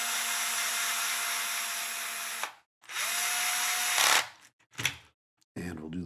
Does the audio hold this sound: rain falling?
no